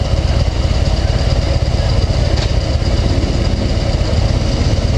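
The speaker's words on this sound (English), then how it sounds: "Engine sounds nice." A Harley-Davidson Heritage Softail motorcycle engine idles in a steady, loud, continuous low rumble close by, with no talk over it.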